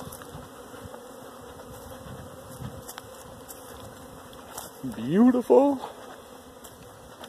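Honeybees hum steadily around busy hives in March, a continuous close buzz with louder passes as bees fly near, and a person speaks briefly over it.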